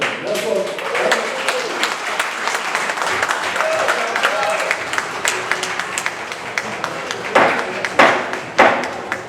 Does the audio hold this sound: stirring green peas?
no